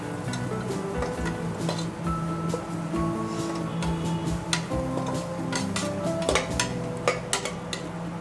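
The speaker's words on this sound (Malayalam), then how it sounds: "ഇനി നമുക്കിത് നന്നായിട്ടൊന്ന് മിക്സ് ചെയ്ത് കൊടുക്കാം." Masala spice powders being mixed in a pressure cooker for chicken biriyani, with steady scraping and clinking of a spoon against metal under a low background hum and scattered tonal music-like tones, no talk.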